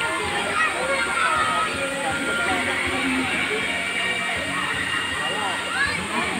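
River water at Mina Falls rushes and sloshes in a continuous, loud, broadband flow, with people talking faintly over it.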